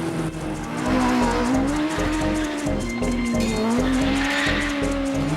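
A Megabusa sports car is driven hard on the throttle through corners, its engine droning loudly and steadily up close while tires squeal continuously underneath.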